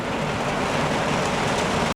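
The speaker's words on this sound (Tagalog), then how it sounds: "Umuulan pa rin" Steady rain keeps falling in a continuous dense hiss with low rumble underneath, cut off by a brief sharp break at the very end.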